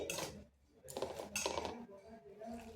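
Dry ingredients being mixed in a bowl for a spicy fried tea-time snack, with a spoon scraping and clinking against the bowl in short bursts at close range, alone without talk.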